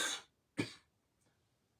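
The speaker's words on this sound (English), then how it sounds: "Still have the cough." Two short, sharp coughs close by with a pause between them, followed by a faint breath and a brief third burst at the end, in a quiet room.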